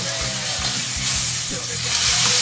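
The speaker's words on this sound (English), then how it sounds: "we just wanna give this thing a good sear on both sides" Swordfish steak searing in a hot pan, a steady loud sizzle and hiss of frying that swells slightly midway and holds close throughout, with no talking.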